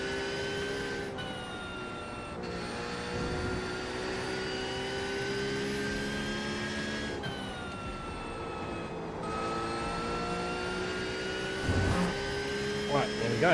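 A race car in iRacing with its engine droning and revving through shifting tones, pitch sliding up and down as the throttle comes on and off, a steady mechanical whine under the motor, heard close and continuous.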